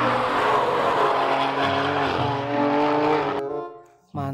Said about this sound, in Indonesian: ada si mobil balap